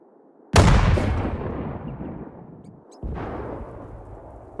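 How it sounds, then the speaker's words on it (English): Artillery firing in the World War II strategy game Sudden Strike 4: a loud booming blast that rolls off slowly, followed a few seconds later by a second, softer shot. "Artillerie, Feuer!"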